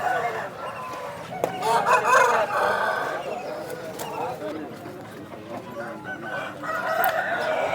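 Roosters crow repeatedly amid clucking fowl at a busy rooster market in Vijayawada, with people talking in the background throughout.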